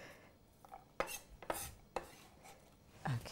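A kitchen knife cutting a bell pepper on a board, a few sharp, separate chops spaced about half a second apart, close and fairly quiet with no talk over them.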